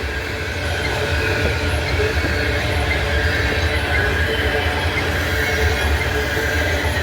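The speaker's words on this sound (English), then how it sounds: "Bottom end coming up, got a locomotive on the bottom end on this one." A CSX freight train rolls past with a locomotive at the rear, a loud, steady roar of wheels and cars on the rails holding close throughout.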